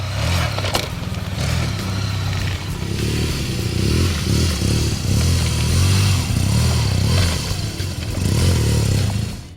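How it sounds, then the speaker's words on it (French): Engines of a 2012 Honda Crosstourer and BMW R1200GS adventure motorcycles rumble close by while tires clatter and scrape over uneven railway tracks, the noise rising and falling throughout. "on a testé la garde au sol de ces deux maxi trail en passant des rails de chemin de fer"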